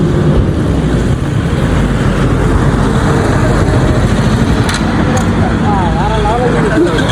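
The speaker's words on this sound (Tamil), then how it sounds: "நம்ம ரைடுக்கு வந்த வண்டி" Steady road and engine roar from a vehicle on a ride toward Yelagiri, a continuous close rumble with wind-like broadband noise throughout and no clear speech.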